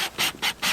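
A screw being tightened on a chicken coop door hinge, three quick, close, rasping scrapes in a steady back-and-forth rhythm with no voices.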